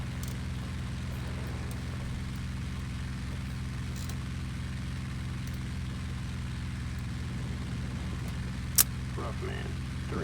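Steady droning engine of a WWII fighter aircraft at maximum RPM in the Il-2 Sturmovik Bodenplatte flight sim, a constant loud hum throughout with a brief click near the end.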